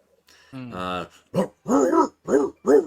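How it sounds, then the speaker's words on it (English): Large dogs bark as ambience for a tabletop role-playing game: a low drawn-out growl-like howl, then four loud, separate barks at an uneven, fairly quick pace, close and dominant. "you begin to hear the barking of dogs, and they sound rather large,"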